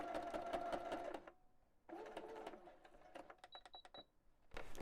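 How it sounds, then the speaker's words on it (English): A sewing machine runs a straight stitch on a butterfly appliqué: two sustained runs of rapid needle chatter, then a series of short quick bursts before it starts up again, close and clear with no talking. "I'll go through a straight stitch on our butterfly."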